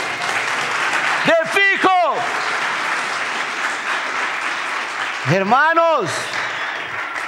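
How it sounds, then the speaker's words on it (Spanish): A church congregation applauds with a steady, full wash of clapping throughout, while a preacher's voice rises over it in two short shouted phrases. "¿Cuántos dan un aplauso al Señor?"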